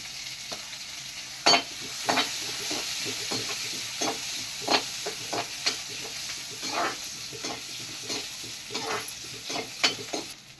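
Chopped onion and two cinnamon sticks sizzle steadily in a hot pan with mustard seeds, broken by repeated scraping stirs of a spoon, close and alone with no talking.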